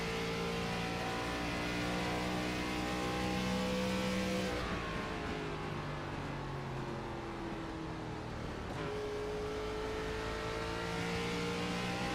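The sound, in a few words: race car downshifting into a corner, onboard audio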